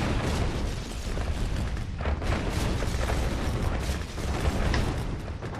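Bomber strikes in Red Alert 2: Yuri's Revenge: a dense, continuous barrage of booming explosions and crackling bursts piling over each other at full loudness, with no talking.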